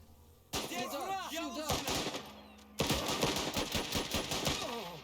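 Gunfire in the game The Last Train Home: repeated sharp rifle and machine-gun bursts in a firefight from cover, loud and rhythmic, with a brief pause and then a renewed heavy barrage, under occasional speech.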